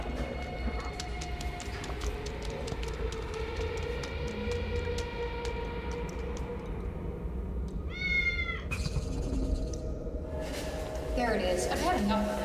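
A cat meows repeatedly amid steady low rumble and background noise, with a sharper drawn-out yowl near the end; a person speaks briefly.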